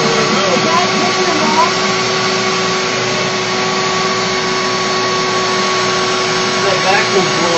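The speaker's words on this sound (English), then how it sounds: "That vacuum blowing." A vacuum runs while a four-penny glider is being built, a loud, steady whirring blow with a fixed tone that holds without break from start to end.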